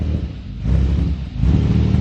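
Aston Martin DB2, a one-owner car with Tickford bodywork, idling and rumbling as it is moved, a deep low engine drone that swells in two surges with a slight rise in revs, close by and without talk.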